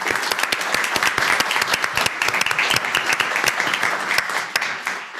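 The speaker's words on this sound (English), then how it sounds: "So once again, let's give him a round of applause." A board of education meeting audience applauds a newly named high school principal, with dense, sustained clapping from many hands that stays steady and fades slightly at the end.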